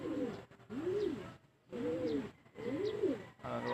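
Pigeons cooing close by in a loft, soft repeated rolling coos in a steady rhythm of about four calls, with faint chirps in the background.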